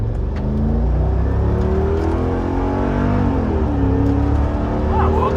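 A Mercedes G550 with a V8 launches from a standstill in drive, its engine roaring loud and steady with rising, layered tones that climb through the whole stretch, close and continuous.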